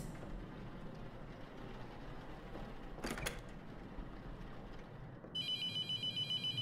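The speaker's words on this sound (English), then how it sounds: "And the phone's ringing." In the horror game The Mortuary Assistant, a telephone starts ringing in a rapid trilling electronic pattern over a steady low room hum, after a brief noisy clatter midway, with no talking.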